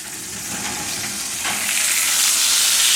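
Steak searing in a hot pan while being broiled, a loud steady sizzle and fry that swells and grows brighter toward the end, close and without talk.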